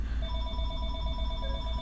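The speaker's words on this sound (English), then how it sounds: "my all my phones are ringing" A telephone rings with a steady electronic trill that holds throughout, fairly close and moderately loud, with no voices and only a dull low hum beneath it.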